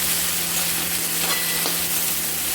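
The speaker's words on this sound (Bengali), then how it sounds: "এবার এটাকে আমরা লাল লাল করে ভেজে নেব" Onion and tomato pieces frying in a pan for a spiced pea curry with egg, a steady close sizzle with faint stirring scrapes running through.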